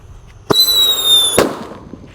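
A Happy Power 3 firecracker goes off inside a container with a sharp pop, then a loud, shrill whistle lasting about a second, ending in a second crack that fades.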